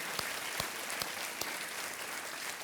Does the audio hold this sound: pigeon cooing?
no